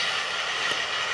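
Model Class 47 diesel locomotive running along the track and slowing, a steady broadband rolling whir with no separate events, heard close and alone.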